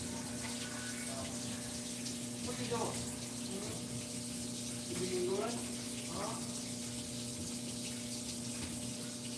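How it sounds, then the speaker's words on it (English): Water runs steadily from a tap in a constant hissing stream at moderate level, with a steady low hum underneath and a person talking over it several times. "I had to run the water here"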